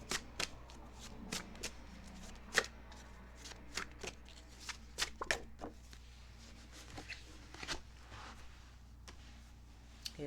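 A deck of tarot cards handled and shuffled close up, with repeated crisp riffles and slaps in irregular bursts over a quiet room hum and no talking.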